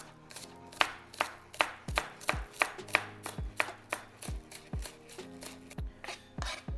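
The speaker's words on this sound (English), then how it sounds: "I have 4 green onions here that I've already cleaned, and I'm gonna chop them" A knife chops four cleaned green onions on a board in a steady, even rhythm of about two crisp, close thuds per second, with no talking.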